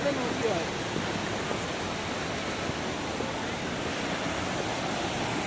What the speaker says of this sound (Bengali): ঝর্ণাটা যথেষ্ট খরস্রোতা, মানে খুবই বেগে বইছে ঝর্ণাটা